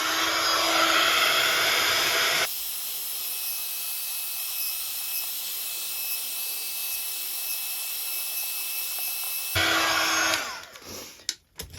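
A hair dryer blows steadily over wet paper for a paper bag journal, a loud close whooshing hiss that changes tone midway, switches back, then cuts off near the end.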